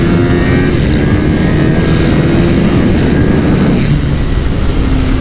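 A 2025 Kawasaki Ninja 500 SE's engine is held at full throttle heading downhill, a loud, steady roar with wind buffeting throughout and no break in the sound.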